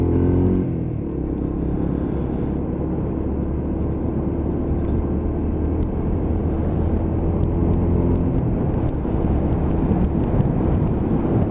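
A Lexmoto LXR 125 motorcycle on fresh tyres pulls away in second gear. The engine drones and rises steadily under heavy wind rumble.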